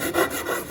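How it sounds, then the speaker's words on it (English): Coarse side of a wood rasp shaping the armrest contour of an electric guitar body, two quick, close, gritty rubbing strokes, with no talking. "I'm getting pretty close to the end here with the coarse side of my rasp"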